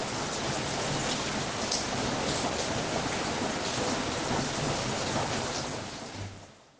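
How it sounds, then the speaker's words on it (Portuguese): Steady, dense rain pours down with a low rumble of thunder beneath it, an unbroken wash of sound that eases slightly at the end. "tomando café com esse barulho de chuva"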